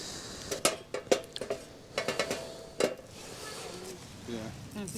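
Steaks clatter onto a hot wood-burning cooking stove, with several sharp metallic clinks of cutlery and pans in a quick cluster, then quieter scraping and a soft sizzle, close by.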